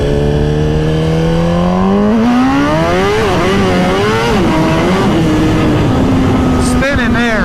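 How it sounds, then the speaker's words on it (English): Suzuki Hayabusa motorcycle pulling hard through the gears as its rear tire spins, the engine note climbing steadily then stepping through a shift and holding high, loud and close, with some talk over the riding. "When we went to second, it started to spin the tire."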